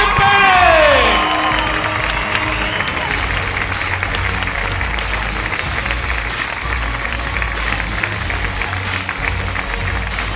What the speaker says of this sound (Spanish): Un aplauso para Miriam Sempere